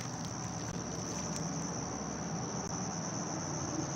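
Crickets chirp steadily outdoors late at night, a continuous high trilling that is moderately faint, with soft background noise and no talking.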